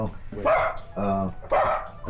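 A dog indoors gives a few close, loud barks with a short whine-like sound between them, while a person talks in the background.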